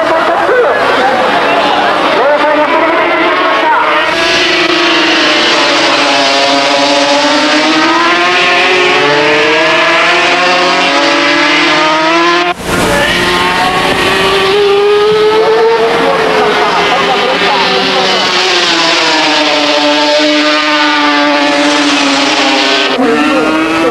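Taira and Lawson's racing motorcycles at the 1986 TBC Big Road Race scream past loudly and continuously, engines rising and falling as they brake and accelerate through corners, with crowd murmur in the background.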